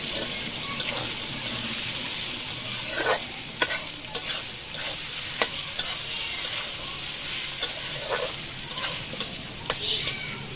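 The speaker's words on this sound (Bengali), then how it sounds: "আলু পেঁয়াজ একসাথে ভাজা করে নেব" Potatoes and onions frying together in a pan, with a steady sizzle broken by recurring scraping stirs and clinks of the spatula, close and fairly loud with no talking.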